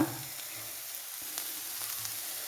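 Crushed coconut fries in a pan for chicken thoran, a soft, close sizzle with faint scattered crackles and light stirring scrapes, quiet and continuous without speech.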